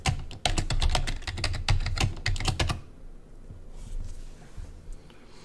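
Rapid close clatter of keys being typed on a computer keyboard to enter a password, a quick burst of clicks that stops abruptly, leaving quiet room tone.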